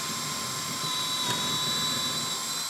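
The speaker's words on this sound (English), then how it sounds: "We drill this hole and we're good to go." A power drill boring a hole with a bit fitted with a stop collar while installing undermount drawer slides: a steady, loud, high whine held for about three seconds, close up and alone.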